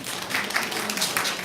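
Scattered hand clapping from a small audience at a council meeting on election districts, steady and moderately loud across the whole moment, with no talk over it.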